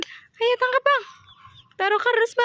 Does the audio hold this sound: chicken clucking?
yes